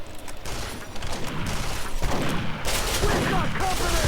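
Rocket and gun fire in the video game Duke Nukem Forever: dense, continuous bursts of shots and blasts, loud and close, with a voice faintly underneath.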